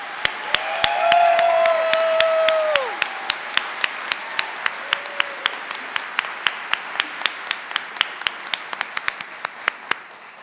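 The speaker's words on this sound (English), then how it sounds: "Please stand and let's have another round of applause." Audience applauding at a teachers' recognition event, a dense burst of clapping from a large crowd that swells for a few seconds, then thins into scattered, sharp individual claps that continue steadily to the end.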